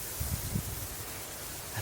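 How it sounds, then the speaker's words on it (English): Wind kicks up through trees in North Dakota during early season, a faint, steady rushing hiss with soft low buffeting gusts and no talking. "this wind just kicked up, and it's allowing us some cover"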